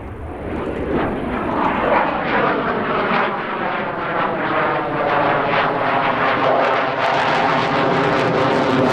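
A Belgian F-16 Viper fighter jet flying a solo display routine at an airshow, a loud, close jet roar that swells and shifts in pitch as the aircraft sweeps past, sustained for the whole stretch.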